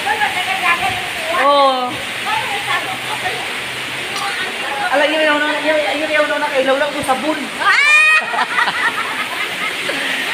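Heavy rain pouring down in Balutan amid flooding, a loud continuous rushing hiss that never lets up, with people talking over it and a couple of sharp squeaky sounds.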